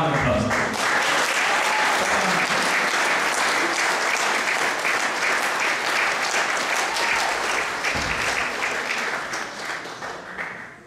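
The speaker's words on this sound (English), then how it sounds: "I want you to give them a round of applause." Applause for musicians at a 1916 commemoration event, a sustained crowd of clapping hands that stays dense and loud, then thins and fades near the end.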